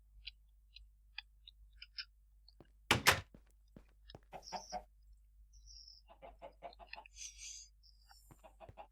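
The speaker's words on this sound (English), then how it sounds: "You have a chicken in your pipes in here." A chicken clucks in pipes in the video game Minecraft, FTB Monster modpack: scattered short clucks and squawks heard fairly clearly, with a heavy thunk and some faint clicks, no talking.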